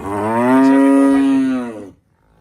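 A one-day-old calf on a farm near Sialkot gives a single drawn-out moo, loud and close, lasting about a second and a half before falling silent.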